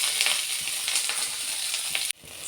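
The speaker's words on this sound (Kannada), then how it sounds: "ಸೊ ಎಣ್ಣೆ ಹಾಕೋದ್ರಿಂದ ಜಲ್ದಿ ಡೀಪ್ ಫ್ರೈ ಆಗೋಗ್ಬಿಡುತ್ತೆ." Okra pieces deep-frying in hot oil for a bhindi huli, a steady close crackling sizzle with faint stirring scrapes that cuts off abruptly near the end.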